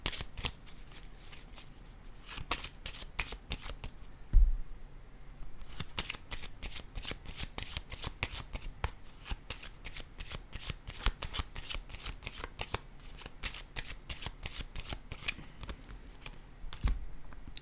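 Cards are shuffled and laid down during a tarot-style card reading, making quick, crisp flicks and slaps in rapid bursts throughout, with a couple of heavier knocks on the table.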